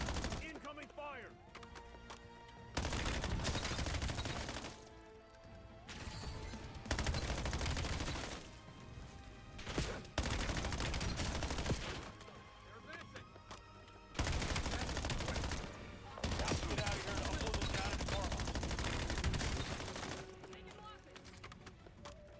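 Gunfire in the Call of Duty: Black Ops 7 video game, bursts of loud rapid shots and explosive blasts arriving in dense waves separated by brief quieter lulls, close and harsh throughout.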